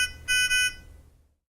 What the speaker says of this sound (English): You can silence the audible alarm for 2 minutes by momentarily pressing the on-off button.